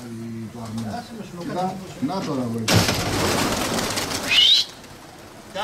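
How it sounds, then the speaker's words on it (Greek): Someone speaks, then a sudden burst of many wings flapping as a flock of pigeons takes off, loud and close, fading after a few seconds. "Είναι πολλά τα περιστέρια."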